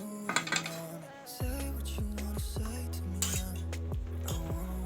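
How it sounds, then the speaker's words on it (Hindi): Fried bread slice lifted from a pan onto a plate, with sharp metallic clinks and scrapes of a spatula against cookware, several distinct strikes spaced a second or so apart, close and clear. "अब हम इसको प्लेट में निकाल लेंगे।"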